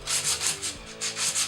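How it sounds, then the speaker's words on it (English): Close, rhythmic sanding strokes rasp back and forth in quick repeated passes, steady and moderately loud with no voices, lightly sanding the shine off a metal surface before patina. "take whatever you're going to be patinaing and sand it down. Just a light sanding."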